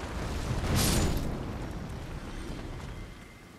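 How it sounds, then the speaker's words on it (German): A deep, rumbling explosion in the video game Elden Ring bursts loudly, then rolls off into a long, noisy decay of debris and crackle, with no voices. "Oh shit, der explodiert!"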